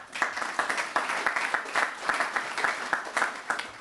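A conference audience at a business ethics forum in Bled, Slovenia applauds as speakers are introduced, a brisk steady round of many hands clapping with rhythmic peaks.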